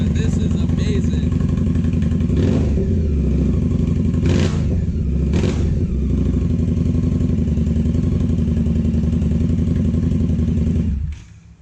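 A motorcycle fitted with a Two Brothers Shorty full-system exhaust runs loud and steady for about eleven seconds, with a few sharp revs near the middle, then cuts off abruptly at the end.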